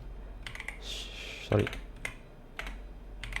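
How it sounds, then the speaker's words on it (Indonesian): Keystrokes on a computer keyboard as a database command is typed, scattered clicks in short bursts with one louder tap, close and fairly quiet, no voices. "selanjutnya kita ketikkan perintah"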